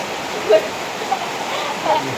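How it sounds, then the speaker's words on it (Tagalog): Heavy rain pours down outdoors as a steady, dense wash of noise, with people talking faintly over it. "papahulaw po kami ng ulan"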